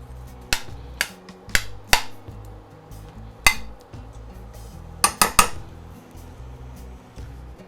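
A utensil scrapes and clinks against a pan while shrimp cooking in melted butter are spread out, giving about eight sharp metallic taps and knocks at uneven intervals, close and fairly loud, with a busy cluster near the end.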